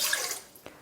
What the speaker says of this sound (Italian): Metto l'acqua all'interno della planetaria